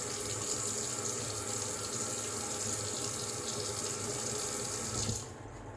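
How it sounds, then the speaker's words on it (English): Steady close-up stream of water running from a tap into a shaving brush while lathering soap, a continuous loud gush that cuts off abruptly near the end. "we're just gonna shove loads of water in the brush here"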